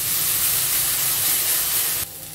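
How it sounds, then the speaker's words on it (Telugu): Coriander leaves frying in a pan over a medium flame give a steady, close sizzling hiss that fades slightly near the end, with no talk. "ఇప్పుడు ఈ కొత్తిమీరని కూడా ఇలా కలుపుకుంటూ మీడియం ఫ్లేమ్లో 1 నిమిషం ఫ్రై చేసేసుకోవాలి"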